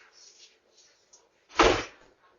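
A single loud door slam, a sharp thud that rings briefly and fades, after a stretch of quiet, faint background murmur.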